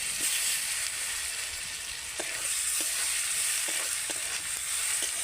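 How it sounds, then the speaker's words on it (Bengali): Okra and onions frying and being stirred in a little oil before tomatoes go in, with a steady bright sizzle throughout and scattered soft scrapes of the spoon, close and continuous with no talk. "একটু তেলের মধ্যে এটাকে নেড়ে নেড়ে একটু ভেজে নেব"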